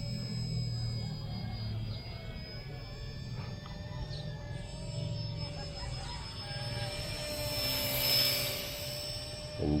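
A brushless RC ERA C032 Huey model helicopter flies nearby outdoors, a steady whining rotor and motor drone that swells louder toward the end, with faint voices in the background.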